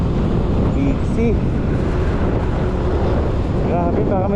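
A motorcycle engine drones steadily and strains under load climbing uphill, losing pulling power, with wind buffeting the microphone and someone talking over it.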